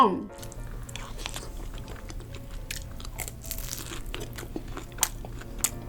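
Close crunchy chewing of fried shrimp tempura during a spicy curry meal, repeated soft crunches and mouth sounds throughout, with a couple of sharper bites near the end.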